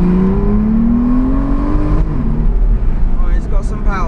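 An Aston Martin supercar engine revs loudly, a rising roar that swells and climbs in pitch for about two seconds before settling into a steady rumble, with a voice speaking over the latter part.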